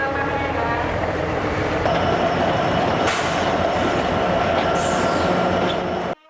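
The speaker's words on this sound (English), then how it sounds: "Hundreds were seen waiting for trains at the Maradana railway station." Trains at the busy Maradana railway station in Sri Lanka: a loud, close rumble of rolling railcars with squealing wheels and metallic screeches, continuous until it cuts off at the end.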